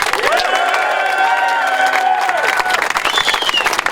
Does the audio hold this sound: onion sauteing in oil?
no